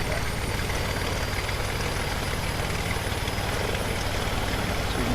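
A Boeing 777 jet engine runs in a flight simulator game, giving a steady, broadband roar with a faint high whine and no clear rise in pitch.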